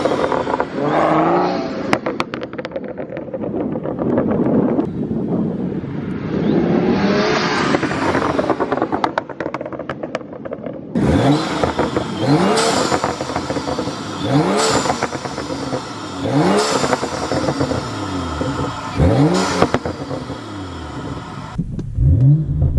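A BMW F30 335i with a BMS Elite performance intake revs repeatedly, with loud, close throttle blips that rise and fall in sharp bursts over a steady idle and a wind-buffeted microphone.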